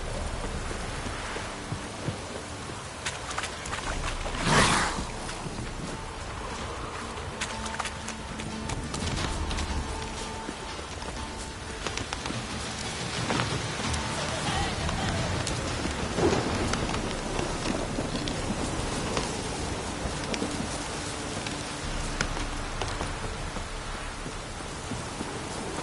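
Rain keeps falling in The Witcher III with occasional thunder rumbles and a sharp crack near the start. Faint hoofbeats from a horse clop through the steady wash of the downpour.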